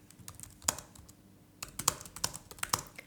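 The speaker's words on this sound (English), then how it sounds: "Let me type this for you." Quiet typing on a computer keyboard, a few scattered key clicks, then a short irregular burst of taps after a brief pause.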